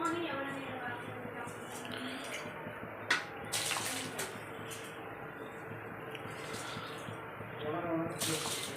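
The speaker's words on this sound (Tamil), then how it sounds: "கொதிச்சிருச்சு ரைஸ் போட்டுக்குவோம் தண்ணி இல்லாமல் வடிச்சிட்டு அரிசியை சேர்த்துக்கோம்" Drained rice tipped into a pot of boiling water while cooking a large batch of vegetable biryani, heard as a continuous watery bubbling and sloshing with a few brief splashes and clatters around the third second.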